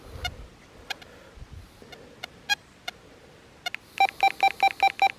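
A Deus 2 metal detector sounds scattered short beeps, then a rapid, evenly spaced run of about eight bright tone pulses at the end, close and clear with no talk.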